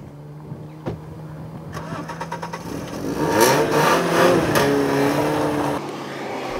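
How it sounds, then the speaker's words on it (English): An Alfa Romeo car engine cranks and catches, then revs up strongly and freely with rising, strident surges before settling, heard close and alone. "the sort of urgent, strident, free revving engine that you expect"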